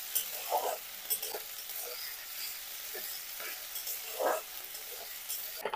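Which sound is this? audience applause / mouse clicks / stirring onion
stirring onion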